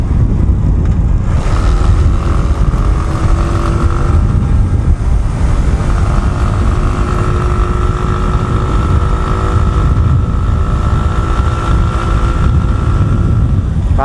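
A modified motorcycle on a solo ride at Kaybiang drones steadily close by, its engine note rising and holding as it pulls, with wind noise underneath and no talking.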